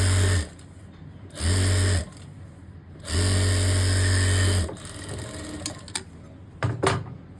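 Sewing machine stitching lace onto the sleeve of a simple suit: three short loud bursts of motor whir, the last one longest, followed by softer handling clicks and rustle.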